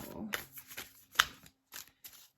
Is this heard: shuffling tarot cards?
yes